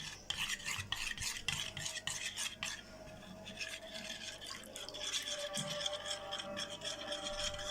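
A spoon stirs tahini while milk thins it, a soft, quiet continuous scraping and swirling against the bowl with faint rhythmic rubbing and no talk.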